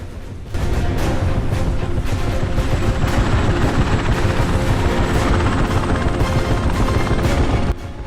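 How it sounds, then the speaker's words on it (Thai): A helicopter's rotor thumps steadily and loudly overhead as it lifts a shipping container in a 2012 sci-fi short film, a continuous chopping roar that starts abruptly and cuts off near the end. "ทันใดนั้นเฮลิคอปเตอร์ก็ปรากฏขึ้น และยกตู้คอนเทนเนอร์นั้นไป"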